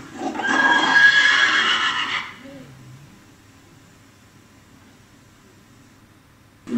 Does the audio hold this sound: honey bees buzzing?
no